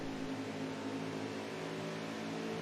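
Racing truck engine in a truck racing video game, a quiet steady droning hum with a low harmonic tone held throughout, no talk over it.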